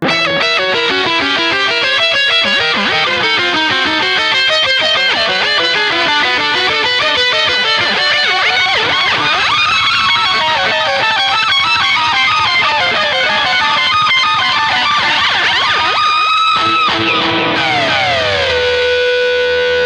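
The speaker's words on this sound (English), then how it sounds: "the whammy is in there if I want to do the more crazy out there live version of the solo" An electric guitar solo, played through a whammy pedal, screams with heavy distortion, rapid pitch-shifted runs and siren-like bends sweeping up and down, loud and continuous throughout before a final long dive.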